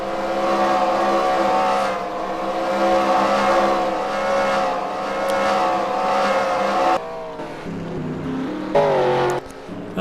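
Stock car engines roar at Martinsville in a racing video game as cars run the final lap, a loud sustained droning whine that shifts pitch near the end, with commentary spoken over it.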